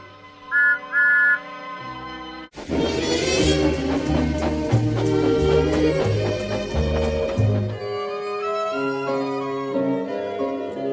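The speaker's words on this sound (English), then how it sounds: "Oops, that's the conductor's whistle." A conductor's whistle sounds at a railway station in an animated train story, short shrill blasts near the start followed by a loud burst of orchestral music that carries on.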